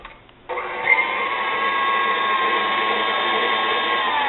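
A KitchenAid stand mixer mixing zucchini brownie batter switches on after a brief moment and whirs steadily at a constant high pitch, loud and close, with no talking.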